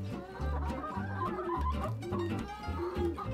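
Farm hens cluck and murmur continuously at close range, overlapping low throaty calls pulsing in an uneven rhythm throughout.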